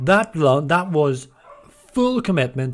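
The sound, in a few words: dog barking in the background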